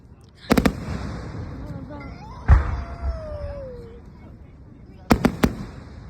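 Loud fireworks bursting outdoors in a rapid cluster of three or four cracks, then a single boom and another quick triple burst, with a whistling rise and soft voices murmuring in between.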